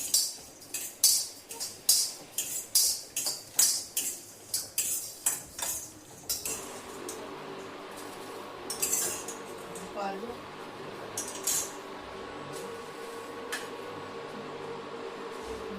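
Spices for a dry masala roast in oil in a pan, first with a rapid series of scraping, clinking stirs against metal, then a softer continuous sizzle with a faint fan hum.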